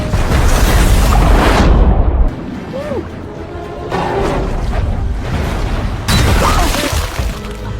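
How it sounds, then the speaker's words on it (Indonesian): A house explosion: a loud, roaring blast rumbles with debris crashing and shattering, then eases and surges again in a second burst of noisy destruction. "tiba-tiba rumah itu meledak"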